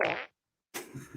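A short, loud fart sound effect triggered by a chat command blurts out, then after a brief silence a voice speaks.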